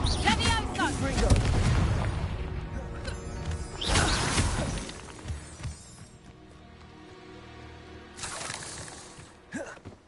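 Confringo spell blasts in the video game Hogwarts Legacy: several loud booming bursts arrive in clusters with crackling debris between them, while voices call out over the fighting.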